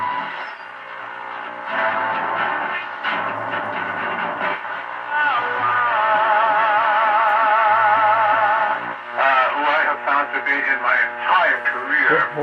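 A Philco 38-62 tube radio plays a broadcast station, continuous music with warbling melodic lines and some background hum, steady and fairly loud with no talk over it.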